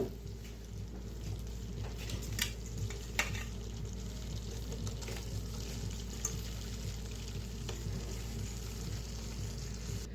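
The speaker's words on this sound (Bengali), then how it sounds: "তো পাস্তা দিয়ে ভালোভাবে নেড়ে নিয়েছি" Pasta being stirred in a pan while making white sauce pasta, a soft scraping and faint sizzle under a low steady background hum, with a few sharper scrapes of the spoon.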